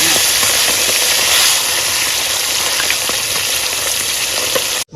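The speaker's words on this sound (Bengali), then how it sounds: "এবার মাছগুলো ভেজে নেবো।" Fish frying in hot oil in a wok gives a loud, dense, steady hiss and sizzle that holds unbroken for about five seconds before cutting off abruptly, with no voices.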